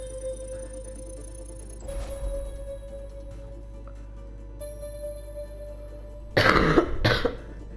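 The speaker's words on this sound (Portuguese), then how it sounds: "Se tiverem a ouvir tosse, desculpem, porque eu estou muito constipado." A man with a heavy cold coughs, a brief throat sound early on and then a louder burst of two harsh coughs near the end, close against a quiet background hum.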